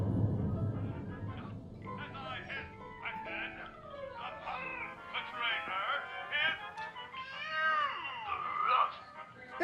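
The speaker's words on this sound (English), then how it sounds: "Oh, she's a cat." A cat meows and yowls repeatedly in drawn-out, wavering cries of varying pitch, fairly close, with some low background sound underneath.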